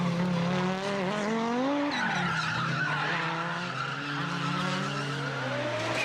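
Rally car skidding across dry dirt while kicking up dust, its engine revving and wailing in sliding pitch sweeps alongside tire scrub, loud and continuous, with no talk.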